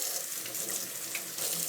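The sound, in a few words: Aeropress being rinsed under running tap water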